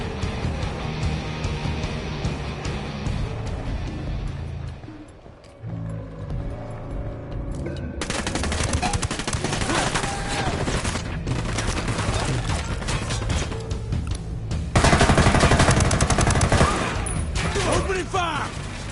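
Bursts of rapid gunfire crackle through a tactical shooter firefight in Ghost Recon Wildlands, dense and loud for long stretches after a brief lull, with voices and other game sounds underneath.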